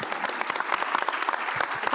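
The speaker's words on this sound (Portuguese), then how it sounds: "Não vamos aplaudir ela também?" Dense applause from a seated audience at a panel debate, a steady wash of many hands clapping close by across the whole stretch, with no voices rising above it.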